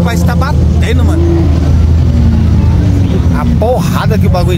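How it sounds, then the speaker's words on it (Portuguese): A car engine at a night drift meet, heard as a loud steady engine rumble with a rising rev, mixed with crowd noise and nearby voices. "o motor parece que tá batendo"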